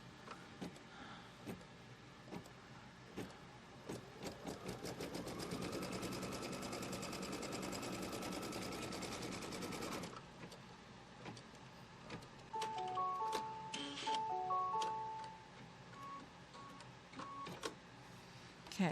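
An embroidery machine stitches a tack-down line through quilt fabric in a hoop, a rapid mechanical whirring run of several seconds followed by shorter bursts and stops, close and alone.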